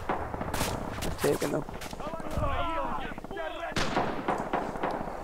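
An MG42 machine gun in Red Orchestra 2 rattles off rapid bursts amid other heavy gunfire and explosions, close and loud, with a player talking over the shooting.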